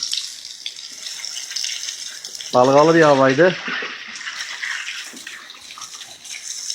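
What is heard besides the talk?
rinsing fishing reels under running water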